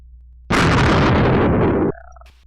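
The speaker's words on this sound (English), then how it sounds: "so let's just blow it up." A single loud explosion in the World of Archespore video game blows up dirt and gravel, roaring steadily for about a second and a half before cutting off, followed by faint fading tones.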